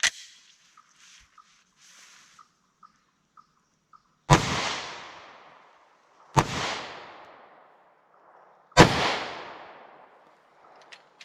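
Three loud, sharp pistol shots from a Glock 41 converted to 10mm firing PMC ammunition outdoors, each crack followed by a ringing decay, spaced about two seconds apart after a quiet start with faint clicks.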